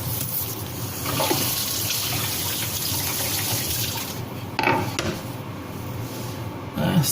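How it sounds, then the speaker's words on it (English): A kitchen tap runs steadily as a freshly sharpened knife is rinsed under the stream, the splashing shifting briefly partway through as the blade moves in the flow. "Quick rinse, please, under water."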